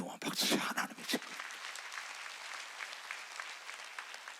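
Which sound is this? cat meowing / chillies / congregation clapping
congregation clapping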